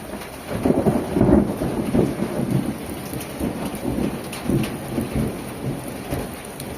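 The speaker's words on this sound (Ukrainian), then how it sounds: "Є трошки грому навіть." Rain pours steadily while low rolls of thunder rumble through, swelling and fading in a long continuous growl.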